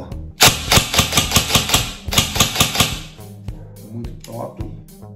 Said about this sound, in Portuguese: Vamos fazer uns disparos? Ela já tá em condição de tiro.